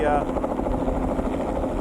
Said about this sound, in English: It's now the helicopter's pilot's job to move away from the ground and traverse to his landing zone.